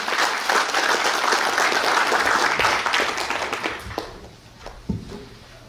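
Applause from a union assembly audience at a plaque award presentation, a dense burst of clapping that holds for about four seconds and then fades into a few scattered late claps.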